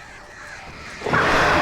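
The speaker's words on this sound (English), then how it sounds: "I love how demonic the crows sound." Crows caw in the video game Alan Wake, a single loud, harsh call swelling near the end of the short moment, heard alone without talk.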